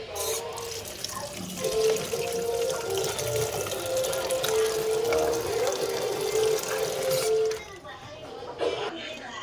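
Tap water runs steadily into a sink while onion, ginger, garlic and tomatoes are washed for a fish and tomato dish, a continuous splashing hiss with handling sounds, ending after about seven seconds.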